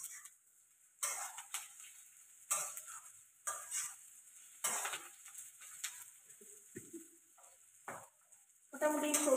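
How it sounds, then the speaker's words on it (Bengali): Mixed vegetables, including peas, fry in a wok for fried rice, heard as bursts of sizzle and stirring scrapes that break off between moves, with a utensil clink near the end. "মোটামুটি সবজিগুলো ভালোই ভাজা হয়ে গেছে"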